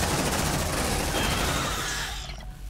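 A squad focusing dense, continuous automatic gunfire on a target in the video game Aliens Dark Descent, a loud unbroken fusillade that tails off at the end.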